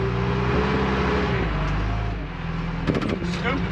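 A mini excavator scooping cow manure in a pasture, its engine droning loud and close with a steady low rumble that shifts pitch as the load changes, followed by a few clanking knocks of the bucket.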